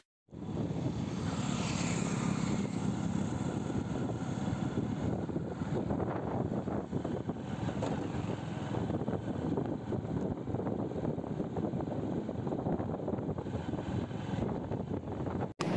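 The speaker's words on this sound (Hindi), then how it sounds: "अब बाइक को मैं चलाता हूँ" An iSmart motorcycle with an electrical current fault and a double CDI is ridden, giving a continuous low engine rumble mixed with strong wind buffeting on the microphone. The noise stays steady and fairly loud throughout.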